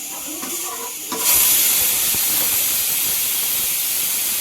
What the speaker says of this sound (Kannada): ಕುಕ್ಕರ್ ಸಹ ಬಿಸಿ ಕೂಗ್ತಾ ಇದೆ